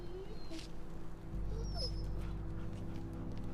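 A dog whimpers softly in a quiet scene, with faint high whines over a low steady hum in the background.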